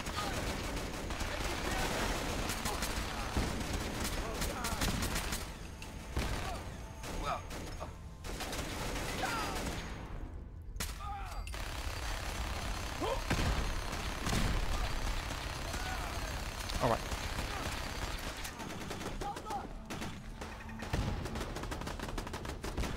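Gunfire rattles through a battle at Bunker Hill in Fallout 4, with repeated loud bursts and single shots over a steady din of combat and a voice talking at times.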